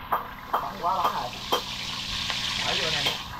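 Food sizzling and frying in a pan, a steady hiss with occasional sharper spits and stirring clatter, close and fairly loud throughout.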